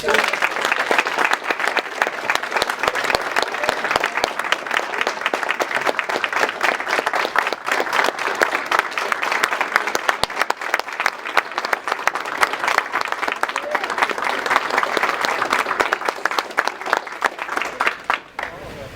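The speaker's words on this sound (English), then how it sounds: "Give him a round of applause." Long, loud, sustained applause from a large crowd at a family reunion gathering, honoring a man, dense and even throughout with some voices and cheers woven in.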